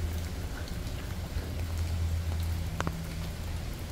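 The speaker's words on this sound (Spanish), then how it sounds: "porque está lloviendo" Steady rain falls throughout, a dense even hiss with a few sharper drips and a low rumble underneath.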